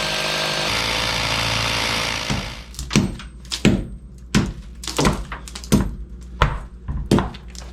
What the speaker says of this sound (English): I'm trying to just punch through the last inch with a small drill bit